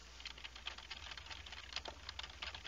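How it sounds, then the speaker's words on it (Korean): Rapid, uneven clatter of keyboard keys being typed, picked up by a Turtle Beach Stealth Pro headset microphone with noise gate off, steady and fairly quiet, with no voices. "먼저 키보드 소리입니다."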